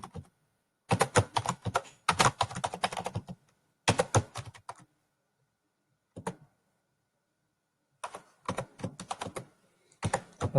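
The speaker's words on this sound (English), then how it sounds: "let me continue my fast blazing speed typing here for you" Fast typing on a computer keyboard, close-up bursts of rapid key clicks separated by short pauses and a single isolated keystroke.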